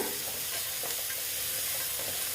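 Dal being sautéed in a pan for a bottle gourd dish, a dense, continuous sizzle with faint stirring scrapes, close and steady without speech.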